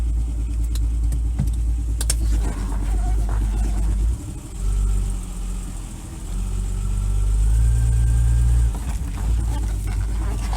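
A Ford Granada 3.0 GL automatic car engine runs after being started following two months of sitting. Steady, deep, close idle with a brief dip in the middle, then a fuller rise in revs, and people talk over it.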